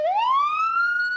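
Ambulance siren at the scene of a cafe bombing in Tel Aviv: a single rising electronic wail that climbs quickly and then holds a high, steady tone, loud and clear, with no voices.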